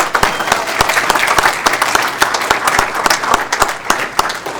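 Audience applause at a city council regular meeting in Federal Way, a steady burst of many hands clapping with sharp individual claps standing out, loud and continuous with no talk over it.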